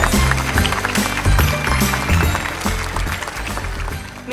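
Student audience at a school leadership workshop opening clapping for the district mayor, dense loud applause with thumping and stamping underneath, building then slowly tapering.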